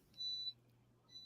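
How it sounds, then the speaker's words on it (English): An egg incubator gives off a quiet, high-pitched electronic beep, one longer tone and then the start of another, over a faint steady hum indoors. "incubator just keeps beeping"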